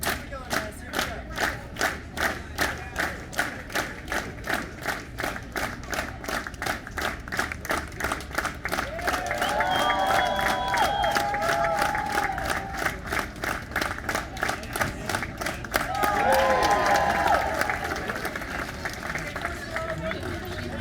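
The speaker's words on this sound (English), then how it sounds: "Everyone, please do me one final favor and clap with me." A large outdoor crowd in Boulder, Colorado claps in steady rhythmic unison, with louder cheering and whistles swelling midway and again near the end, all close and continuous.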